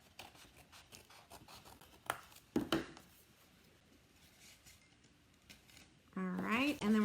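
Scissors cut card for a slimline Christmas card, giving a few quiet snips and scrapes close by, with a sharper cut near the middle and a person speaking at the end.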